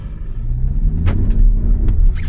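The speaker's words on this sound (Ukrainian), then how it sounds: "Пускаю, авто зразу їде моментально в ту же секунду. Навіть нема, не думаю ні хвилину. Даю газу." Skoda Superb TDI 150 PS with a DSG7 DQ381 gearbox pulls away hard from standstill, a loud low engine rumble building steadily, with faint tyre slip noise.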